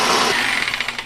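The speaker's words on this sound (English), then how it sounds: "Jeff's really crushing drilling through the floor." A drill grinds loudly and up close through a concrete floor, striking rebar; a harsh broadband roar gives way to rapid rhythmic chattering pulses as the bit bites.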